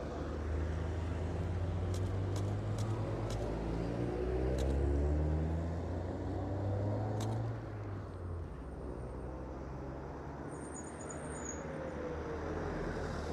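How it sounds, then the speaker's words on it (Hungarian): A car engine rumbles steadily nearby on the Stelvio Pass road, moving along with continuous low road noise and no talk. "Ez az autó fordult vissza az előbb."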